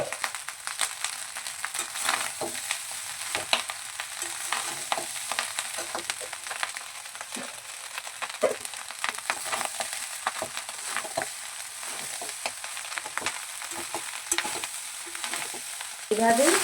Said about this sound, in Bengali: এইবার আমি এই যেগুলো সবজিগুলো ভেজে রেখেছিলাম ওইগুলো দিয়ে দেবো।